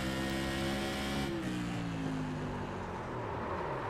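A loud race car engine screams at high revs, then drops in pitch as it brakes into a corner and downshifts, a continuous roar filling the whole clip.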